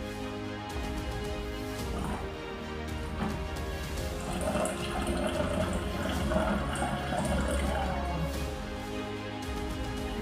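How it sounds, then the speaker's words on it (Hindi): Water is poured into a bottle during a water magic trick, making a continuous gurgling, splashing flow at moderate loudness for about ten seconds. "तो इस पानी को हम डालते हैं इस बॉटल के अंदर"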